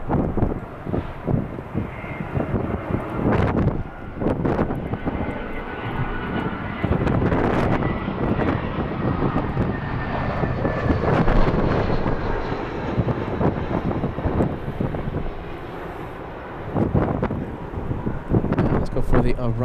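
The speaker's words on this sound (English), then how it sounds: "Next 767 lining up, Delta 939 to JFK." Delta Boeing 767 lining up on the runway at LAX: a broad, rumbling jet engine roar heard at a distance and mixed with wind noise, while a voice talks over it throughout.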